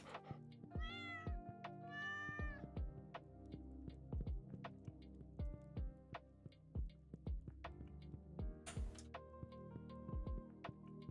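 Cats meow repeatedly inside a Stardew Valley farmhouse, a few clear cries near the start among steady soft game music with plucked notes and a low hum.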